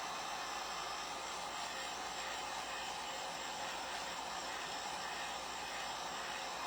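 A hair dryer runs steadily, drying paint on a 3D bunny head craft project, giving a constant, even whooshing hum with no pauses and no one talking.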